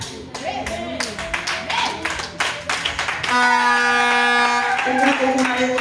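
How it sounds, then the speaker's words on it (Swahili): A church congregation claps hands in a quick, loud, steady rhythm alongside a voice, then the clapping gives way to sustained electronic keyboard tones. "Unapiga makofi, umenielewa?"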